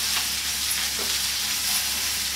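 Okra (lady's finger) fries in a pan for a Rayalaseema-style fry, giving a steady, even sizzle throughout with no voices.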